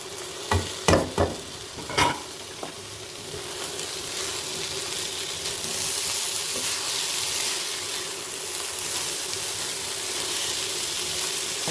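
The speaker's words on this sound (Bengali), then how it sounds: "একটু নাড়াচাড়া করে নেব এখন আমি ধুয়ে রেখেছিলাম এক কেজি চাল সেটা এর ভিতরে দিয়ে দেবো" Washed rice is stirred into a pot with oil and garlic for hilsa pulao, a few scraping clanks of a spoon at the start, then a continuous loud sizzle and bubbling that fills the rest.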